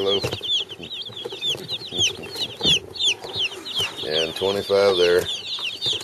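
Young Cornish Rock Cross meat chicks, a batch of twenty-five, peep in dense high chirps from a brooder pen, close and continuous, with someone speaking briefly over them.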